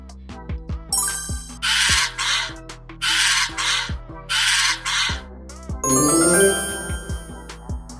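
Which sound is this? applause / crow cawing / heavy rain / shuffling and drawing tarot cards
crow cawing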